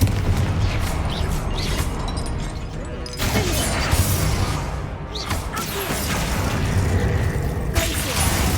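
Confringo fire spells blast repeatedly in Hogwarts Legacy, with loud booms, bursts and whooshing impacts layered over mechanical game noise and a steady rumble.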